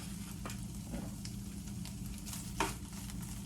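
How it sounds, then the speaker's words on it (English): Cured turkey bacon crisping in an oiled pan: a steady close sizzle with scattered pops and crackles, one sharper spatter near the end, no speech over it. "I'm gonna use cured turkey bacon. I'm gonna crisp that up."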